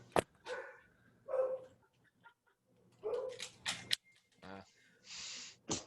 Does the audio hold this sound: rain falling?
no